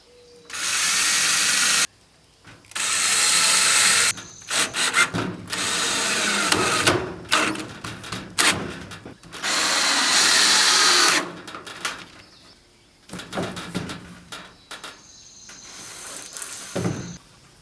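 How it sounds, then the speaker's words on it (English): A power drill whirs in several bursts of a few seconds each, pre-drilling holes in wood, separated by pauses, handling sounds and short clicks, close and loud. "I'm going to go ahead and pre-drill just a couple of holes here."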